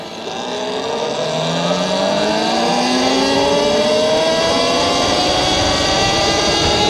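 A Talaria XXX electric dirt bike riding on asphalt, a steady loud whine climbing in pitch as it accelerates, with continuous wind and road rush throughout.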